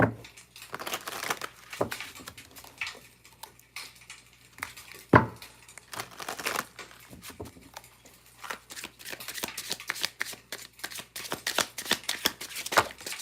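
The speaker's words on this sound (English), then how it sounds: "Make sure we get a good shuffle" Repeated riffling of playing cards being shuffled, brisk papery bursts in an uneven rhythm, close up, with occasional soft clatters.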